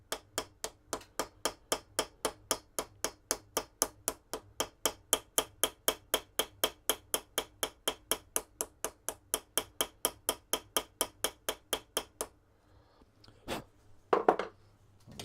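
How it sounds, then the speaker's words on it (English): A hammer peens the rivets of an old kitchen knife in a fast, even run of about fifty sharp metallic taps, then stops; a few scattered knocks follow. "Now I'm just going to peen"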